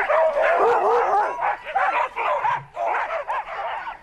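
Excited sled dogs bark and yip continuously in a dense overlapping chorus, loud and close, with whimpering mixed in.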